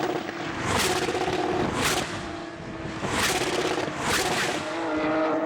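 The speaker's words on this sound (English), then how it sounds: "Wonderful sounds of that Porsche engine" Porsche 911 GT3 Cup race car engines roar past in repeated waves at Spa, each surge rising and fading as cars sweep by at speed. No talking.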